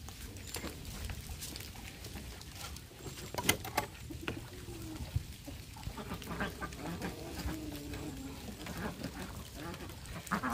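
Muscovy ducks on a farm in the rain, giving scattered soft quacks and low murmuring calls from nearby under steady rain noise, with faint talk at moments.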